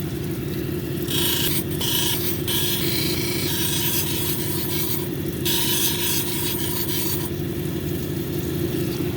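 A blue apatite cabochon is ground into a dome on a lapidary wheel, making a steady gritty rasping hum that surges in repeated scraping bursts as the stone is pressed and lifted, with no talk.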